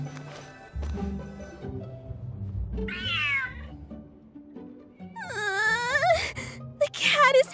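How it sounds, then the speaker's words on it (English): A cat in the video game Genshin Impact gives drawn-out, wailing yowls and growling meows, in rising and falling bursts that grow louder toward the end, with soft game sounds between them. "The cat is hissing at me, Miss Rosaria!"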